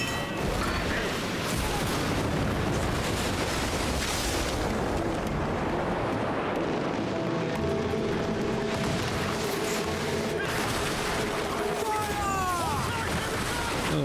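Ship cannons fire in Assassin's Creed Black Flag, giving heavy booming volleys and rattling mechanical clatter during a loud naval battle, with voices shouting over the din.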